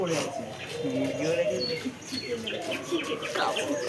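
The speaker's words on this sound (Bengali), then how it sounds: "ডাক ডাক এগুলো জাভা পাখি গাইস" Java sparrows calling in an enclosure at a mini zoo, a string of chirps and tweets over someone talking nearly throughout.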